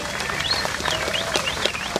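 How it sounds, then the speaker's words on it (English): Crowd applause at a homecoming press conference, steady dense clapping from a gathered audience with a few whistles cutting through, filling the whole moment without speech. "How about a nice round of applause for Dave Trinkle?"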